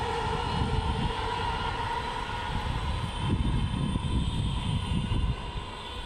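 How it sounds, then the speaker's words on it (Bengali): A train rolls past near a rooftop garden, a steady broadband rumble that holds loud and even across the whole stretch, swelling slightly midway before easing off at the end. "ওই যে ট্রেন যাইতেছে, ট্রেনের শব্দ হইতেছে"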